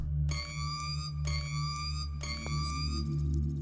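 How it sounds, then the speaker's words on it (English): Three sharp electronic buzzing tones, each with a sudden onset, ring out in GTFO over a steady low hum as the lock-hacking minigame fails. "If you fail, it'll make a sound like this."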